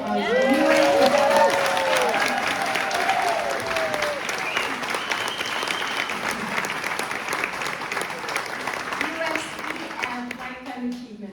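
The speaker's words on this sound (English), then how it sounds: "And if I could just ask for a round of applause for Lenning's new award as" An audience at a Dressage4Kids panel discussion gives a round of applause, a dense, loud burst of clapping that slowly fades, with voices speaking over the start and cheering briefly.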